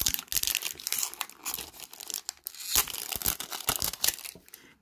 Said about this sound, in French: J'ai pris mes ciseaux comme toujours pour essayer de couper pour avoir plus facile.